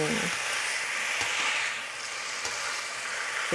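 Dry rice being roasted and stirred in a pan with no water added, a steady close sizzling hiss with faint scraping of the stirring throughout.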